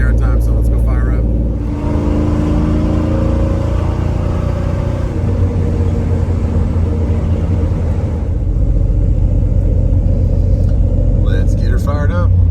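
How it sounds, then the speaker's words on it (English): A Kenworth truck's diesel engine turns over and settles into a loud, deep, steady idle rumble up close. Brief talking is heard at the start and again at the end. "So I'm gonna go get the Kenworth, get it out there."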